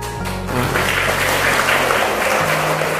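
Audience at a Buddhist monk's talk bursting into loud, dense applause that swells after a brief tonal opening and holds steady for a few seconds, with no talking.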